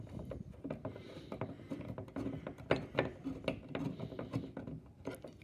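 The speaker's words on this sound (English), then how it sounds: "screwdriver through the top, and then drive it down into that aluminium there" A screw is driven down into aluminium with a hand screwdriver to mount an external fan on a Peltier cooler kit: quiet, close, repeated ratcheting clicks and scrapes in an uneven rhythm, with no talking.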